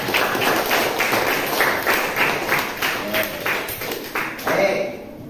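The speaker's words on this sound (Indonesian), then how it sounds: "tepuk tangan dulu yuk." Students clap together in a high school classroom, a steady, dense patter of many hands close by that carries on for several seconds before tapering off at the end.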